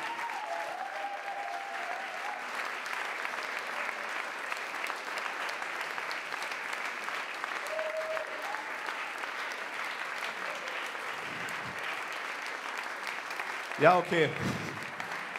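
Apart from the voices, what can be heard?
audience applauding at poetry slam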